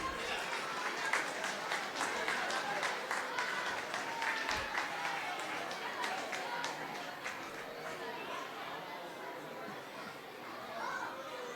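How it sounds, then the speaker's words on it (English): Parents clapping for students at a school annual day, a steady crowd applause with distinct claps near and far, children's chatter and movement underneath, gradually softening. "Parents, please keep clapping for our students."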